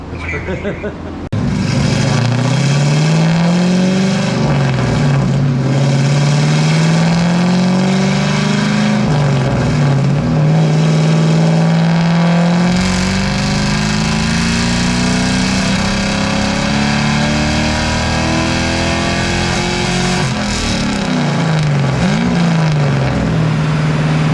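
An LSA6 car engine revs repeatedly on a dyno, loud and close, rising in pitch through several long pulls and dropping back between them, with a steady droning roar throughout.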